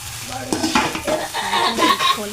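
Fried rice with egg and vegetable pieces is stirred in a pan: quick scraping strokes and utensil clatter over a steady sizzle, close and fairly loud, lasting a couple of seconds.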